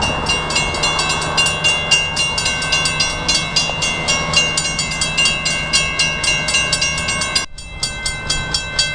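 A long freight train rumbles past close by, its wheels clicking in a steady repeating rhythm over the rail joints, with a brief gap near the end.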